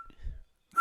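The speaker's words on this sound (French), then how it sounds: "j'ai de la misère à siffler tellement que je suis un peu stressé" A short, faint human whistle: a thin tone near the start, a soft low rumble, then a brief brighter whistled note at the end.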